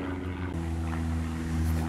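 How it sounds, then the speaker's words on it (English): A propeller airplane drones steadily overhead in open countryside near a livestock field, a continuous low engine hum holding level throughout with no voices. "So many planes going over."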